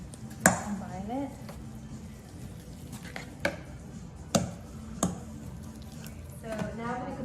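A ricotta mixture is stirred together in a bowl, giving soft squishing and a few sharp clinks of utensil against bowl at irregular intervals, close and fairly quiet, with a voice talking at times.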